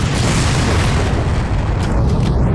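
A crate or barrel blows up in the video game Far Cry, a loud, dense boom that fills the whole stretch and rumbles on without a pause.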